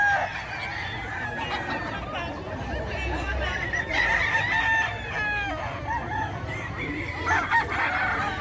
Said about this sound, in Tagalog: magandang manok.